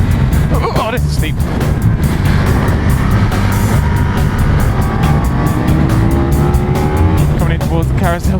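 A racing car screams through a fast corner at the Nürburgring's Carousel, the engine loud and sustained with rising and falling pitch as it shifts, while a voice talks over it.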